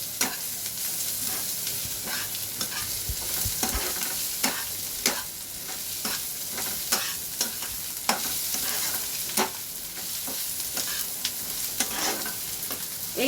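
Dried chilies and onion fry in a pan with a steady, dense sizzle, broken by repeated scraping strokes of a spatula stirring throughout; close and fairly loud, no talking.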